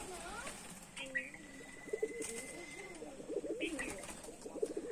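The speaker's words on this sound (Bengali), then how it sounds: "কবুতর গুলা খাচ্ছে" Pigeons feeding, several birds cooing in soft, repeated rolling calls close by, with faint chirps and background rustle, no clear talk over them.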